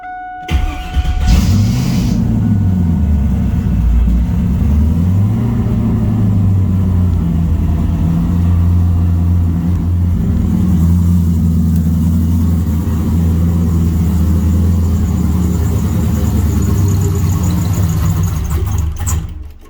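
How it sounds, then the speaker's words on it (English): A turbocharged Chevrolet Camaro engine cranks and fires, revving up briefly before settling into a loud, steady, rumbling idle that runs on for nearly twenty seconds, close and with no talk over it. "So let's start it, get it moved out"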